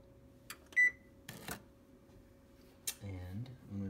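A kitchen timer gives a short electronic beep amid a few soft button clicks, then someone starts speaking.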